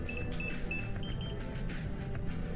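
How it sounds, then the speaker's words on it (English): A DJI FPV unit gives short high electronic beeps after its button is pressed with an ejector pin, three quick repeated pairs then fainter chirps over a low background hum. "We use same ejector pin, press it. It starts to beep."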